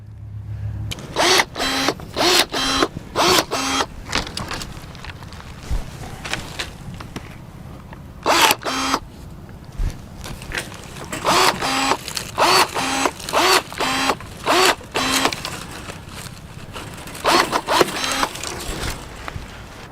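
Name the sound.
DeWALT 20V Max cordless pruner cutting a thick branch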